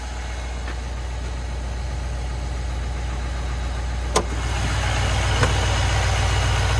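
A 6.6-liter Duramax diesel in a 2026 Chevy Silverado 3500HD High Country idles with a steady low rumble, heard close from the engine bay, with a click midway and a slight rise in level afterward.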